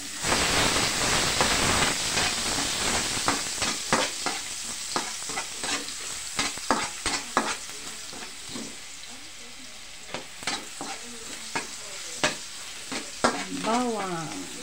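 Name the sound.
garlic frying in margarine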